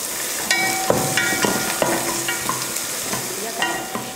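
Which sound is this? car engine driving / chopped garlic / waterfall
chopped garlic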